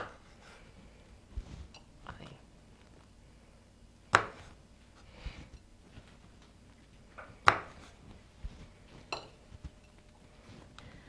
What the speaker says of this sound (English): after dicing all of your tomatoes into half